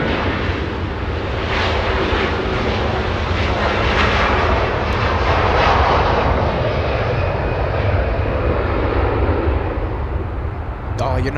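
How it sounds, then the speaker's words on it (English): A Hawaiian Airlines jet departing Los Angeles International Airport, a loud, continuous near engine roar with rumbling low end that holds throughout, a voice briefly audible beneath it. "Incredible sound. Hawaiian Airlines in front of us, a departure."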